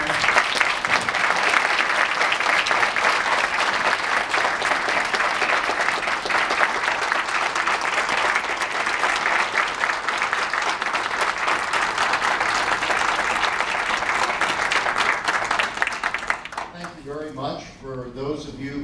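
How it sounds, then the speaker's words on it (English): Warm, sustained applause from an audience congratulating an AFP Skystone Prize winner, dense and loud for a long stretch before fading out as a voice begins speaking near the end. "Please join me in congratulating him with a warm round of applause."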